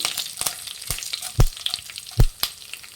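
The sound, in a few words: curry leaves, Byadgi chillies and chana dal frying in oil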